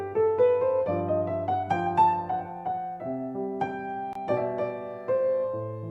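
Piano mixing a blues scale melody over a rhythmic left-hand groove, bright right-hand runs above repeated low chords, clear and close with no voices.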